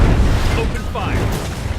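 Artillery fire in the futuristic strategy game Anno 2205, a dense, continuous low rumble of booming blasts that stays loud and steady throughout, with no voices.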